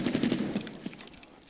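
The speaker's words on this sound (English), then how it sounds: "There was a lot of gunfire." Rapid bursts of automatic gunfire, a quick rattling volley followed by scattered shots trailing off, moderately loud.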